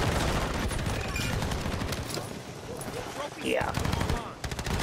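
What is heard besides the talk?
automatic akimbo pistol gunfire in Modern Warfare III video game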